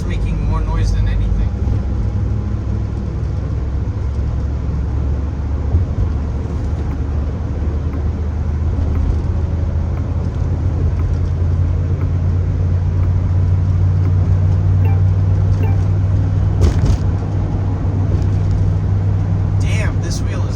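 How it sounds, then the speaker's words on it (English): A Honda car's engine drones as a steady, loud low hum throughout, like a vehicle rumbling along close by, with faint voices mixed in. "that Honda's making more noise than anything"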